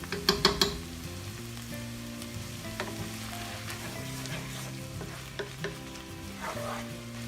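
Minced garlic sizzles in one pan with sausage and pasta, a steady close fry broken by a few sharp utensil clinks and scrapes at the start and occasional stirring knocks later, with no talk.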